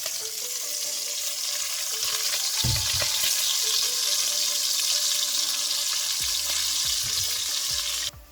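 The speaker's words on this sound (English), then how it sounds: "I'm gonna take that off there and leave that bacon to brown a bit more" Saltfish and bacon fry over a hot fire, a loud continuous sizzle with occasional scraping and knocking of a utensil in the pan, close up and without talk.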